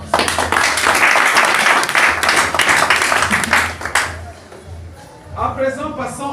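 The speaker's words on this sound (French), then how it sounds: "Il y a lieu de les acclamer parce que ça n'a pas été facile de présider et organiser les activités sportives." A crowd claps loudly and continuously for the organizers of the Lubumbashi wrestling league at the league's gathering. After about four seconds the clapping fades and a voice takes over.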